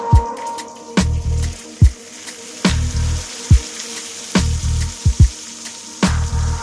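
Chopped tomatoes fry in a pan for kosumalli, a side dish for idli and dosa, giving a sizzle broken by repeated short bursts and soft thuds as the pan is stirred, with no talking.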